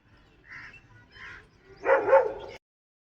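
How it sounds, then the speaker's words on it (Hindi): Dogs bark at a crocodile outdoors, two faint yips followed by one louder, fuller bark, moderately close, with no talking. "उसको कुत्ते देख के भगाने की कोशिश कर रहे थे"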